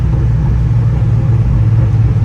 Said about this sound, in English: It's a downshift to third.